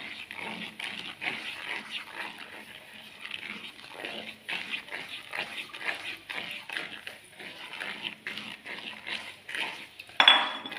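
A spoon scrapes and clinks steadily around a bowl as toasted semolina is mixed into butter and honey, a close, irregular stirring rhythm with a louder clatter near the end.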